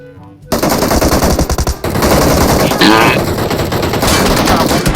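Rapid automatic gunfire in a video game, loud and nearly continuous bursts packed close together across the whole stretch, with a brief break before heavy firing resumes.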